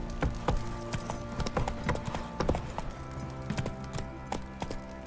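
Roach the horse's hooves clip-clop steadily in The Witcher 3, a regular rhythm of close, crisp hoofbeats carrying on over a low hum of game ambience.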